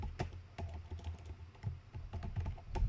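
Fingers tap steadily on a computer keyboard while entering text into an Excel invoice, a run of close, light clicks with irregular rhythm and no talking.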